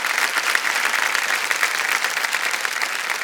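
Studio audience of a quiz show applauding a contestant, loud, dense clapping sustained evenly throughout with no pause or voices.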